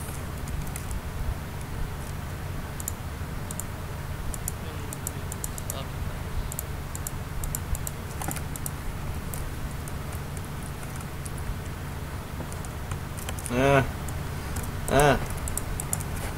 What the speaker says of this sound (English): Type it again.